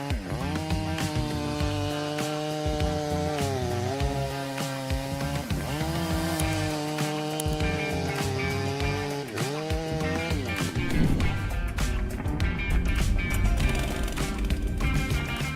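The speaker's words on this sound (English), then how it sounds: "the Stihl MS661 boasts a low power-to-weight ratio and is the lightest chainsaw in the large capacity segment." A Stihl MS661 chainsaw cuts through large logs, its engine note rising and falling in long sweeps as the chain bites into the wood, loud and steady throughout.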